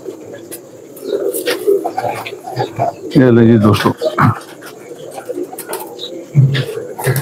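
Red Fanier pigeons coo in a loft, a short burst of throaty cooing rising over steady background chatter and bird noise, with someone speaking throughout.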